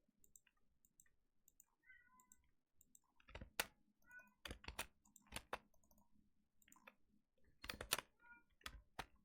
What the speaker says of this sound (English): He's meowing quite a bit.